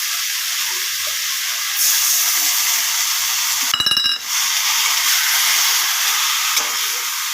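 Methi greens with mustard and a little water hiss and sizzle in a covered pan, a steady steamy hiss that swells partway through, with a short clatter near the middle.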